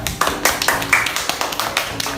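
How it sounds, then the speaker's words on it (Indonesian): A small classroom claps for a student called to the front, with scattered, uneven claps at moderate volume, close by and short-lived. "Tepuk tangan dulu buat Vivian."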